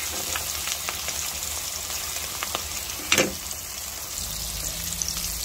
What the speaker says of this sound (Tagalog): Fry na tayo.